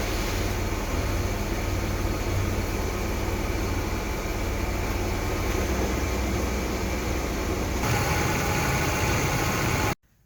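A Chevrolet S10 pickup engine runs steadily, the truck just pulled off ramps after a transmission pan service and fluid top-up; a continuous close, loud idle drone with a slight shift near the end before cutting off abruptly.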